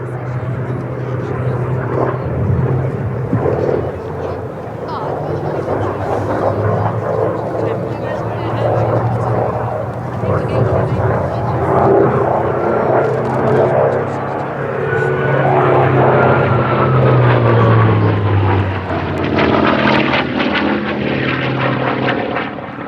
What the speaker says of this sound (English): With the roll rate of the Fury here, as Paul flies it, you can see him doing those rolls